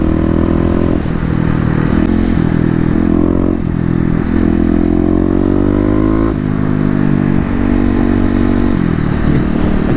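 Kawasaki KLX250 motorcycle engine on an urban ride, with the throttle repeatedly opened and closed: loud, close engine roar that rises and falls in pitch, with steady wind and road noise underneath.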